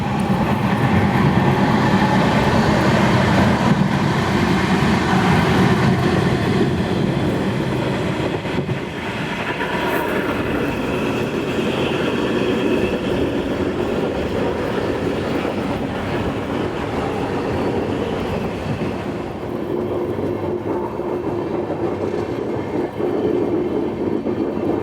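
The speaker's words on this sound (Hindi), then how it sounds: "थोड़ी देर में हमारी ट्रेन पहुंचने वाली है" The Shirdi Mysuru Express runs near Solapur, a loud continuous roar of rolling wagons with rumbling wheels and faint clatter, easing slightly partway through, with no talk.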